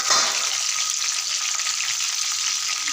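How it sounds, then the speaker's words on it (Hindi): Chicken pieces fry in hot oil for a street-style chicken fry, giving a loud, continuous crackling sizzle with no talking. "उसी तरह से करके हम अपना दूसरा चिकन भी फ्राई करेंगे"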